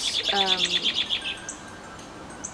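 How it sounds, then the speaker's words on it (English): A bird chirps in a rapid run of bright, repeated tweets up close, then trails off into quiet room tone with a couple of faint later peeps. "Bird."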